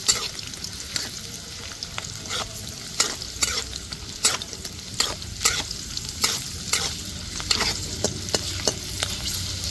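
Jackfruit seeds fry in hot oil with a constant close sizzle. Frequent sharp scrapes and taps from stirring repeat in an irregular rhythm throughout, and no one speaks.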